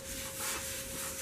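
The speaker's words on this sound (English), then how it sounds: "I need to grab my wooden dowel and I'm just going to give this a curl right here" A wooden dowel rubbed along a paper rose petal to curl it, giving a steady, close, soft scraping hiss that runs without a break for just over a second.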